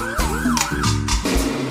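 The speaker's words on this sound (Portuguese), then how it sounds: "som da sirene" Wailing siren sound effect played loudly in a live DJ set, rising and falling in quick sweeps over pounding bass beats and music.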